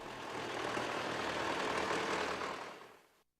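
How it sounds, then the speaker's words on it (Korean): Several tractor engines roar with a broad, rumbling drone that holds steady as they head out to farm fields, then fades out as the sound cuts off. "트랙터로 발동소리를 높이 올리며 협동볼로 나갔습니다"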